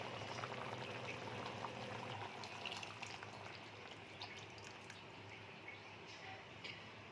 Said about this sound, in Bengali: এবার আমি এর মধ্যে আরও জল অ্যাড করে দেবো